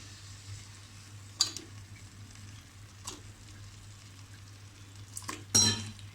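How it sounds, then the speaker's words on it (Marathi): Potatoes stir-fried into chicken masala gravy in a pan, a few scraping, clinking stirs over a faint steady sizzle. "बघा आता मी बटाटेही त्यात टाकून व्यवस्थितपणे आतमध्ये परतून घेतले आहेत"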